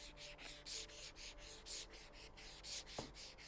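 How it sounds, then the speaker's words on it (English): Business cards are rubbed and shuffled against each other close up, making a soft, rhythmic scraping swish that repeats about every half second, with a single sharp tap near the end. "Playing around with some of my business cards."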